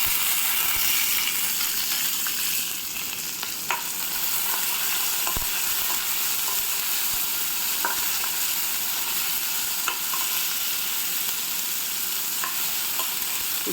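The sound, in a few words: onion pieces frying in a pan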